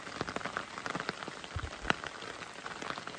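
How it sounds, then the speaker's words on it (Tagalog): Rain patters steadily on a surface close by, a dense field of small drops with a few sharper hits and no voices. "Ba't kasi naulan?"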